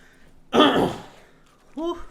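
Two coughs, a loud harsh one followed after a pause by a shorter, quieter one, from a nearby person in a quiet room.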